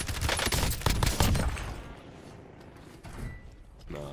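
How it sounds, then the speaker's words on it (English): Rapid bursts of gunfire in a Spider-Man video game, a loud volley of sharp cracks in the first second and a half. It fades into quieter ambience with a few later thuds. "I hear gunfire."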